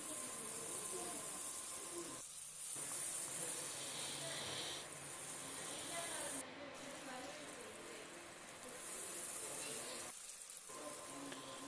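Sliced bitter gourd (karela) frying with masala and turmeric in a pan, a faint, continuous oily hiss that holds steady throughout, with brief dips and a voice faintly present.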